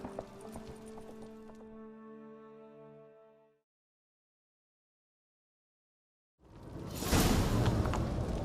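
Horse hooves in The Witcher 3, a brief stretch of rhythmic clip-clop over game music, a pause of silence, then a loud, dense rush of galloping and movement at close range.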